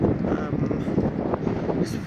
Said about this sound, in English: Something got really windy down here.